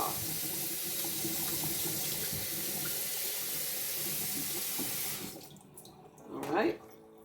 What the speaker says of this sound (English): let's go ahead and rinse them all off, and that way I can go ahead and turn the water off